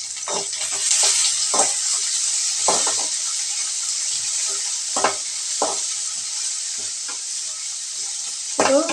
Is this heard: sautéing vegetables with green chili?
yes